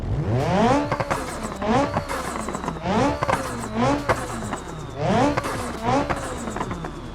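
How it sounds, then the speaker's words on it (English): Turbocharged inline-four car engine in the game Automation revving repeatedly, rising and falling in several loud sweeping pulls with a constant hum underneath. "Now the Runner has got an i4 engine, but it's turbo for starters, sounds pretty tasty."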